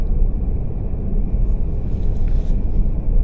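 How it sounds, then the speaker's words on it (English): A snowplow passes on a frozen Alaska mountain pass at about -30°C, a loud, steady low engine rumble with a broad roar that holds close and heavy throughout. "It's a snowplow."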